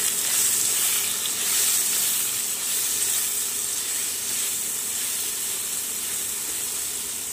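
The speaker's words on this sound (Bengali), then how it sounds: "বেগুন ভাজা হয়ে গেছে" Eggplant frying in a pan with salt and turmeric, a loud steady sizzle and hiss of hot oil up close, continuous from start to end.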